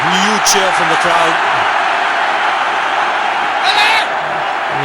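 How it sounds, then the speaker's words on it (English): A crowd at a cricket Test match in Chennai roars in a broad sustained cheer, with a commentator talking over it. "Huge cheer from the crowd."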